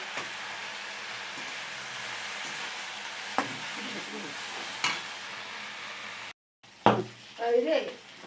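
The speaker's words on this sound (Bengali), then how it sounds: "কালো জিরে শুকনো লঙ্কা ফোড়ন দিয়েছি, এবার শাক বসিয়ে দেবো।" Greens are dropped into a hot pan over a tempering of black cumin and dried chili, giving a faint, low sizzle with a few stirring scrapes. The sound grows louder and busier toward the end.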